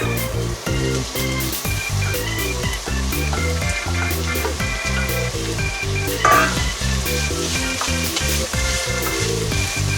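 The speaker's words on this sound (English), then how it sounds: "I'm adding the minced beef." Minced beef for a bolognese fries in a pan with a loud, dense sizzle and crackle that continues throughout, close by.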